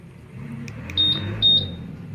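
Two short, high electronic beeps a half second apart, clear over a low background rumble: the keyless answer-back alarm chirp of a Honda Click 150i scooter responding to its key fob.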